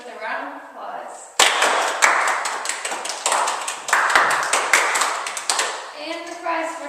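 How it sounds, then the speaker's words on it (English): Game show contestants receive a round of applause: dense, sustained clapping from a nearby audience, with sharp individual claps standing out, starting abruptly after a moment of talk and continuing to the end. "we are going to congratulate each and every one of our contestants with a round of applause"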